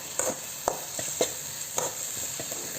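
Turmeric and cranberry pulihora mixture frying in a pan, giving a soft, even sizzle with scattered light scrapes and taps of a stirring spoon, and no voices.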